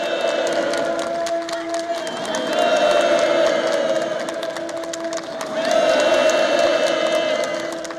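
A crowd applauds and cheers at an outdoor housewarming gathering for workers moving into new farm homes, with sustained clapping beneath rising waves of shouting and whooping voices that swell twice.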